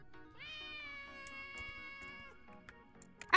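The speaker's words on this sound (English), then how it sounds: "Hang on, what's that? I hear a cat." A cat meows in the video game Nemesis Lockdown: a drawn-out, wavering meow followed by a few shorter, fainter ones, quiet against a soft game backdrop, ending in a brief louder burst.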